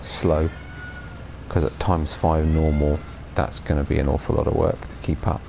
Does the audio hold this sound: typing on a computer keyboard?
no